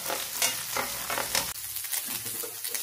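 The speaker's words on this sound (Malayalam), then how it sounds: "വെണ്ടയ്ക്ക ഇനി ഒരു അല്പം തീ കൂട്ടി വെച്ച് വേണം ഒന്ന് വറുത്തെടുക്കാനായിട്ട്." Sliced okra fries in hot oil in a pan over raised heat, giving a close, steady sizzle with stirring scrapes, without any speech.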